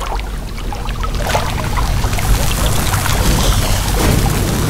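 Rushing water on the waterfall level of the video game Puddle: a steady, full broadband wash that swells in after a quieter first second and then flows on continuously and loudly to the end.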